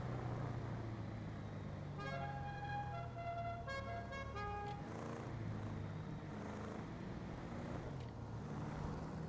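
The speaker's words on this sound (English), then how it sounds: "Who's honking at him?" Repeated car horn honks in a driving video game, several short toots in a burst around the middle, loud over a steady engine and road rumble.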